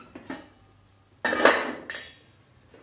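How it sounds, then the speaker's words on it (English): Cauliflower pieces tipped into a metal pan, a few light knocks followed by a loud clattering rattle and a second shorter tumble of pieces against the metal, no talk. "get these cauliflower bits into our pan"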